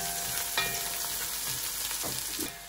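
Garlic and ginger sizzle steadily in a hot pan over medium to high heat, with a continuous crackling fry and occasional soft stirring scrapes.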